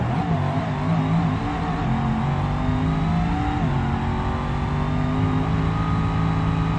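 A nitrous drag car makes a run in BeamNG, its engine holding a loud, continuous high-revving drone that rises slightly in pitch as it accelerates down the strip.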